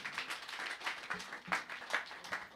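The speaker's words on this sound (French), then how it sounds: "On peut les applaudir pour les encourager" Scattered clapping from a small church congregation during a worship service, for a trio of worship singers, uneven and fairly sparse with soft rhythmic bursts at close range.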